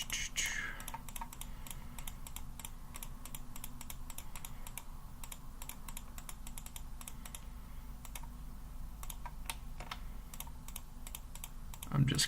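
Rapid computer mouse clicking while placing points around an image in GIMP: many quick, close, fairly quiet clicks in an irregular stream over a steady low background hum.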